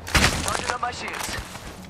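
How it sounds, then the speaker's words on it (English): Bursts of gunfire in the video game Apex Legends, several sharp shots and thuds in quick succession, close and fairly loud over busy game ambience. "I am taking fire, friends."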